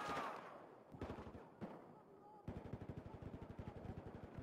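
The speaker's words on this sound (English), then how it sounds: "Can't even see who's shooting me." Video game gunfire sounds in a multiplayer shooter, with single shots and then a rapid automatic burst, loud and close, while a player's voice is faintly audible.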